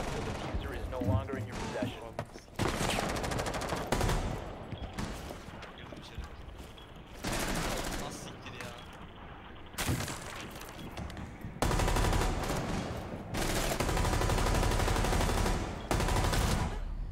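Rainbow Six Siege match with dense, loud bursts of automatic rifle fire and single shots coming in waves, mixed with mechanical clatter, while a player talks quietly at times.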